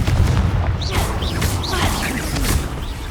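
Confringo explosion spell in Hogwarts Legacy, a loud close blast with crackling, whooshing fiery bursts and rumbling over about three seconds, no talking.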